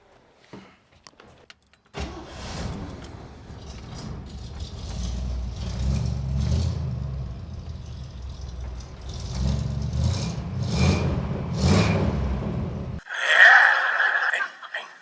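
A car engine turns over and runs, its low rumble building and shifting as the vehicle pulls away, with keys jangling and clicks at the start and a rattling burst near the end.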